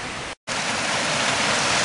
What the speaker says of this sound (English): This is a nice, beautiful creek in the mountains here